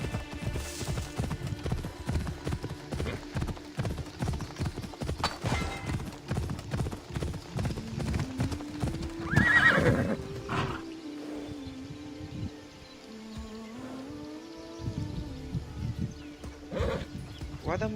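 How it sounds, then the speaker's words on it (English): Horse hooves clip-clop in steady galloping rhythm in the video game Assassin's Creed Odyssey, with rising whinny-like tones near the middle, over game music and background noise while a person talks. "Why don't you get on the fucking horse?"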